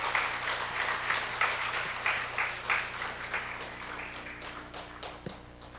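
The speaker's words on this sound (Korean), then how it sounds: "자, 박수로 환영합니다." A church prayer-meeting audience claps to welcome the pastor's wife to the front, a steady dense patter of many hands that stays even throughout, with no one speaking over it.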